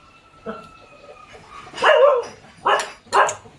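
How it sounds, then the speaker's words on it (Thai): A dog barks in a few separate bursts, fairly close, with a brief tonal hum at the start and no talk over it. "เสียงหมาเห่า"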